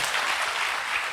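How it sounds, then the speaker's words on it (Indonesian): A church congregation applauds during an Indonesian Sunday service, with steady, dense clapping that holds evenly throughout and no voices on top. "berikan tepuk tangan buat Allah kita."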